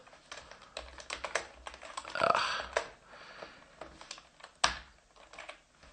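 Keys clatter on a computer keyboard in quick irregular bursts of close, crisp clicks with brief pauses, one louder keystroke near the end, without talk.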